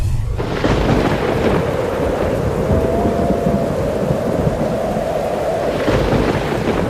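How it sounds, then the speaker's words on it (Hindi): Heavy rain pours steadily through a storm, with thunder rumbling loudly and continuously; no voices, only dense downpour and rolling thunder throughout. "घने बादल जमने के कारण लगातार 5 दिन से बारिश हो रही है"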